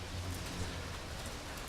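Rain falling on a rainy day, a dense steady patter throughout the short stretch.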